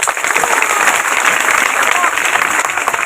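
Steady applause from a magic show audience, many hands clapping at once, continuous and fairly close, with some voices mixed in.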